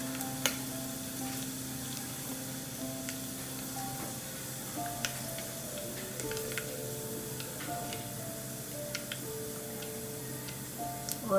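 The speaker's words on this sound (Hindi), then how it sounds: "अब हम इसमें ये राई डालेंगे, ये जीरा डालेंगे," Mustard seeds and cumin sizzle in hot oil, a soft steady hiss dotted with small irregular pops and ticks, with faint tonal hum in the background.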